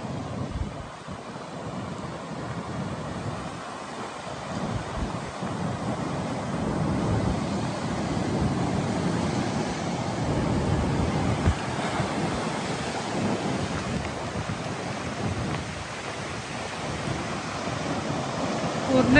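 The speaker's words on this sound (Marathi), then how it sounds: "लाटा पण उसळल्यात भरपूर" Rough sea surges onto a beach during rain under a red alert, a continuous heavy wash of waves mixed with strong wind buffeting the microphone, swelling louder toward the end.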